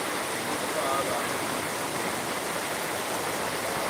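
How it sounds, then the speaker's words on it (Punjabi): Rainwater pours from roof spouts in a flooded village in Muktsar district, Punjab, a steady splashing rush of falling water, fairly close and continuous throughout. "ਪਰਨਾਲੇ ਦੇਖੋ ਪਰਨਾਲੇ ਕਿਵੇਂ ਚੱਲਦੇ ਆ"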